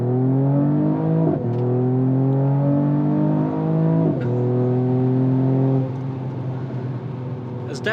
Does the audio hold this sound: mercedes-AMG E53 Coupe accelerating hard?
yes